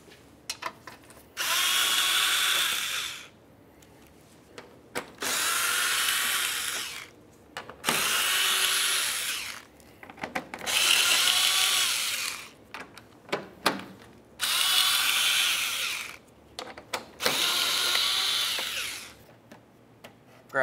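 A power tool runs in six separate bursts, each about two seconds long, while removing the 10 mm bolts from the underbody plate of a 2012–2017 Toyota Camry, with faint clicks and handling noises in the short pauses.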